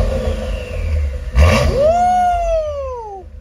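A turbocharged car fitted with an aftermarket exhaust idles roughly, then gives a sharp blip and revs up, its turbo whine rising and falling away, loud and close with no talking.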